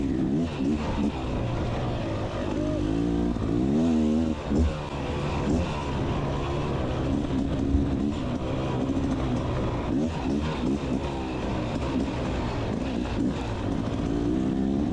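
A Beta Xtrainer 300 dirt bike works through a rutted hare scramble trail, its engine droning loud and close throughout with constant throttle changes and short revs, no voices.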